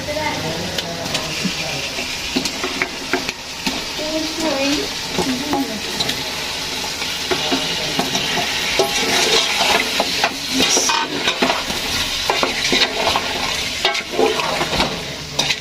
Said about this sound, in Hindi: हाँ जी, इसमें डालते हैं अब चिकन।